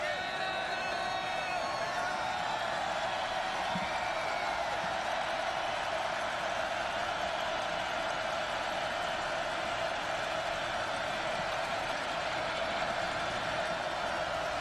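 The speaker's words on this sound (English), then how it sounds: "the crowd anticipating the kick" A college football stadium crowd at Texas Tech versus Stephen F. Austin, waiting for the kickoff kicked by Jordan Wiggs: a steady, distant roar of many voices with scattered whoops, constant throughout.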